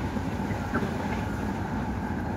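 A moving train heard from on board, a steady low rumble and rattle of wheels and carriages that holds constant and fairly loud, with no talking.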